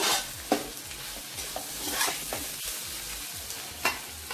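Chicken kothu parotta fries on high flame with a continuous loud sizzle, broken by sharp spatula scrapes and clacks against the pan at irregular intervals, close and without speech.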